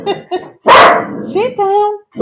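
A dog barks in loud, close bursts in a busy home, a sharp bark followed by rising yelps and whines, with people talking around it.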